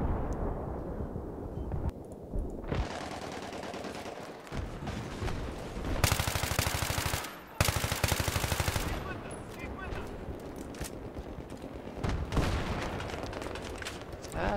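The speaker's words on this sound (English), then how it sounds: "Tank is shooting at me all the way from their spawn." A tank shooting at the player in Battlefield 3, with heavy gunfire and explosions over dense battle noise. Loud rapid bursts of automatic fire and booming blasts cluster around the middle of the stretch.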